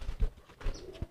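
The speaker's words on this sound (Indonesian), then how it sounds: "Ini ngelatih merpati yang tua tuh." An old homing pigeon being trained gives a few soft, low coos in quick succession, close and quiet, with short gaps between them.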